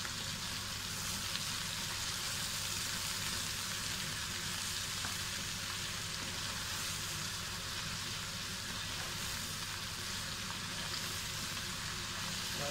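Beef sizzles and fries steadily in a pan with onions, garlic and bay leaf for an Indian-style beef dish, a dense continuous crackle with no one talking.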